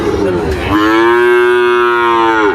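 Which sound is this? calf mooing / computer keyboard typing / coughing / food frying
calf mooing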